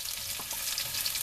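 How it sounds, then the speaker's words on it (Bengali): Potatoes browning in a hot pan give off a soft, steady sizzle with faint stirring, close by and fairly quiet in a brief moment. "আলুটা আমার সুন্দর করে ভাজা হয়ে গেছে, দেখুন লাল করে।"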